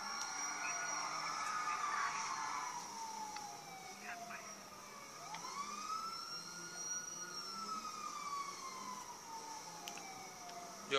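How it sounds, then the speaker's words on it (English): Police car sirens wail in GTA 5 Online, a long sweeping tone that rises and falls continuously and stays fairly loud throughout, with faint talk underneath. "Yo, Prox, turn your sirens off"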